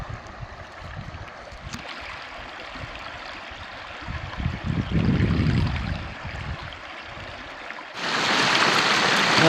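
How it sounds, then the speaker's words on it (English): Steady broadband rush of river water roaring past a blown-out beaver dam, continuous and fairly loud, swelling midway and growing brighter and louder near the end. "Kind of loud, I suppose, all that roaring water"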